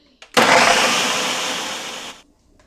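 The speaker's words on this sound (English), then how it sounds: "So I'm going to go ahead and blend this together." A kitchen blender whirs loudly and steadily for about two seconds while blending red enchilada sauce, starting abruptly and cutting off cleanly, with no talk.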